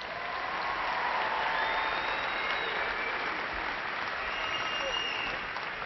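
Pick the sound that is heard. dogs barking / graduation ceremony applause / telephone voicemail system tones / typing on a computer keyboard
graduation ceremony applause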